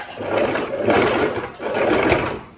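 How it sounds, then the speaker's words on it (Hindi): A sewing machine stitches the seam of a palazzo, whirring steadily and close in two sustained runs with a brief pause between. "अब वो वाले साइड से आसन की सिलाई करेंगे"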